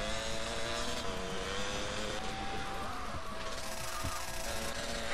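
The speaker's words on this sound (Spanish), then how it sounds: "yo escucho más el motor de la moto" Motorcycle engine in GTA Vice City gameplay, a continuous buzzing drone under dense game sound and music, loud and steady throughout.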